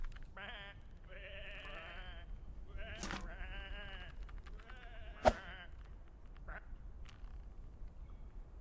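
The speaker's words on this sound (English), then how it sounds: "Come on, these are just sheep." Several sheep bleat in short wavering calls in a PC video game, one after another, with a sharp sudden hit midway and some duck-like quacking mixed in.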